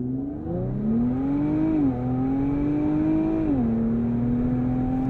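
A 2023 Infiniti Q50 Red Sport in Sport Plus mode launches hard from a standstill, its engine note climbing steadily, briefly dipping at two gear shifts, then rising again as the car pulls strongly, heard from inside the cabin.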